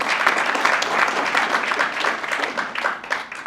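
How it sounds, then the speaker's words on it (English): Crowd at a city 10K run event in Pretoria gives a lively round of applause, with dense, close clapping sustained throughout and slight swells in intensity. "let's give them the round of applause"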